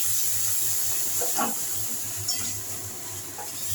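Water is poured into a hot cooking pan while making jackfruit kofta curry, with a short splashing burst and gurgle over a steady background hiss.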